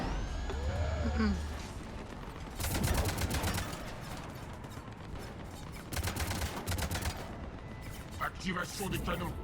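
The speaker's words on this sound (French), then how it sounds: "Activation des canons, vers la porte." Heavy cannon fire in Mass Effect 3 on the Omega DLC, with repeated broadband blasts and bursts of gunfire in a busy game battle, loud and dense, with talk mixed in.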